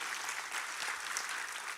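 An audience at a leadership conference gives a round of applause for the event team, a continuous, fairly soft wash of many hands clapping without voices on top.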